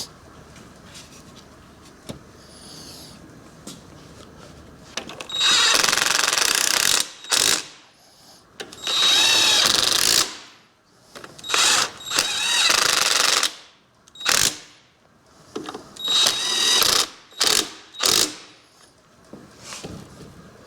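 Tightening bolts on the inner primary of a 1974 Harley-Davidson Superglide Shovelhead FXE, loud bursts of rapid ratcheting or impact-tool rattling separated by quieter pauses, repeated several times close up.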